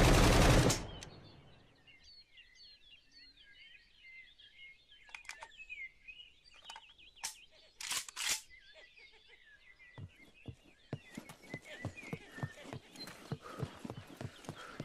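Rifle fire in the open-world survival prison game SCUM, with a loud opening blast, scattered single shots against birdsong, then a rapid run of sharp, regular shots toward the end.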